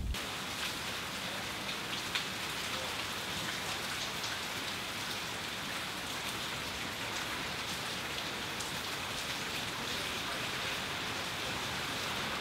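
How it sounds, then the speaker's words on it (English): Steady rain pours down outdoors at a fishing spot, a dense, even hiss of drops falling continuously for the whole stretch with no voices. "We've been sitting around all morning long because of this rain"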